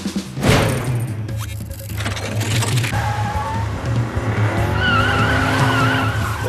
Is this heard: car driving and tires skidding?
yes